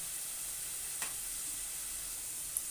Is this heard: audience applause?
no